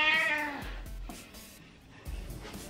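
A cat lets out a drawn-out, falling meow at the start, followed by quieter rustling and soft thumps nearby.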